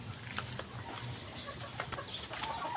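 Chickens cluck intermittently in a yard, a cluster of short calls rising over a steady low background, moderately near with no talking.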